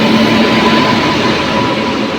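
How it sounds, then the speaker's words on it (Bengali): A train pulls in at platform 2 of a station, its loud, steady rumble and rail clatter filling the whole stretch without pause, with a faint tonal whine from the wheels running underneath. "তো আমাদের ট্রেন এখন এসে পৌঁছালো।"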